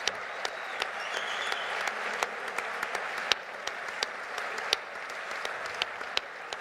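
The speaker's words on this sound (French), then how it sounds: "Vous pouvez les applaudir à nouveau." An audience at a young farmers' congress applauds steadily in a large hall, a dense, even wash of clapping with a few sharper individual claps standing out.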